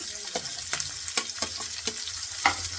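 Onions frying in a pan for a sprouted-gram egg bhurji, a steady sizzle with rhythmic scraping strokes of a spatula stirring, close and continuous without speech.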